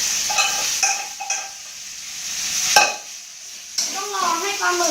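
Seafood fried rice with squid is stir-fried in a hot pan, with a sizzling hiss and several sharp scrapes and clanks of the spatula stirring the rice, close and fairly loud.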